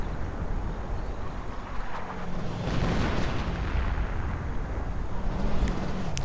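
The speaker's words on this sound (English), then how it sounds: "More artillery." Artillery fire in a WWII real-time strategy game rumbles as a dense wash of deep booms and bursts layered over one another, loud and continuous, with no voice over it.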